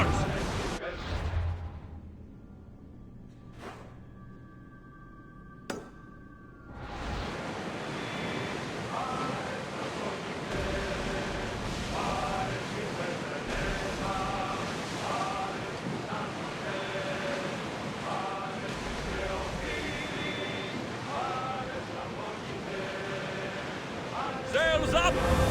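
Ship sailing across open sea in Assassin's Creed Odyssey, with a steady broad wash of waves and wind rushing continuously after a quieter opening of scattered sounds, with voices talking over it.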